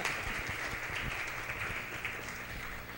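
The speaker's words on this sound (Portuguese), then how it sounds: "Aplausos para a mesa, gente." A seated audience at a university panel session gives steady, dense applause that fills the room at an even level for a few seconds, with no voices over it.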